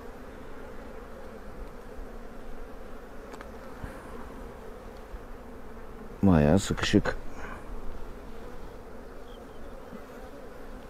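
Honeybees in a small split colony hum steadily while the hive is opened for inspection. Someone speaks briefly over a louder burst of buzzing partway through.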